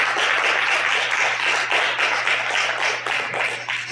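An audience at a conference opening applauds steadily, a dense wash of clapping from many hands that holds strong throughout and eases slightly toward the end, with a low steady hum beneath it.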